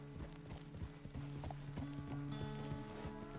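In Red Dead Redemption 2, a horse walks with a steady clip-clop of hooves at close range, the footfalls low and even under a game music bed.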